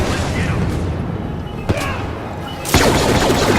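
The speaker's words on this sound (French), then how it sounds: "Je vais détruire la tourelle." Gunfire and booming blasts in the Star Wars Battlefront multiplayer video game as a turret is destroyed, a dense, loud wash of game combat with a sharp crack midway and a heavier blast near the end.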